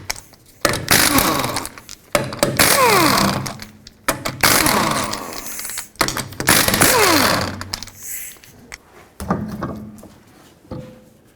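A power tool, likely an impact wrench with a 19mm socket, spins wheel nuts off a 2005-2010 Pontiac G6 in four loud, harsh bursts of a second or two each, separated by short pauses and followed by quieter handling noise.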